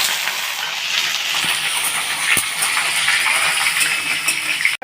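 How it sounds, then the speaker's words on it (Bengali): Potatoes fry in hot oil with whole dried red chillies and tempering spices, a dense continuous sizzle and hiss with occasional sharp crackles, close and loud, ending with a sudden stop. "আলুগুলো এখন ভাজা হবে বন্ধুরা।"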